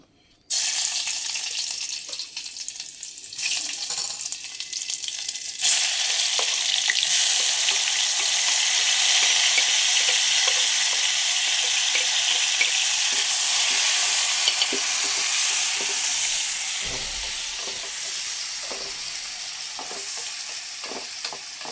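Seasoning spices hitting hot oil in a pan for a bitter gourd dish, a loud continuous hissing sizzle that surges and stays strong, with intermittent stirring clatter, close up and no talk.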